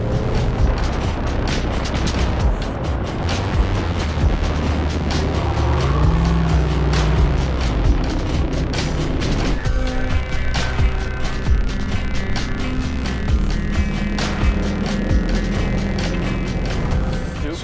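Supercharged Fox Factory pickup trucks running hard off-road in Baja, a loud sustained engine roar with rising revs, rattling suspension and wind buffeting throughout, with occasional voices under the din.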